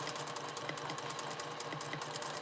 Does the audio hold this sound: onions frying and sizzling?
no